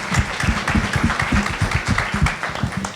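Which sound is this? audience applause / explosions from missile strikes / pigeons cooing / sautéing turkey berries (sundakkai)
audience applause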